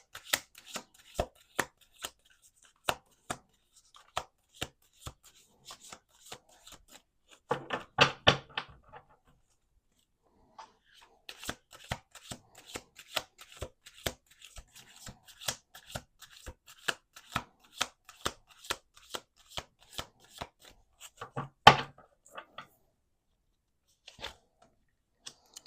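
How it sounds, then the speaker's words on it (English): A deck of tarot cards is shuffled over and over, giving bursts of crisp riffling and flicking with sharp taps of cards squaring against a table, separated by brief pauses and heard close with no talk. "Two more shuffles."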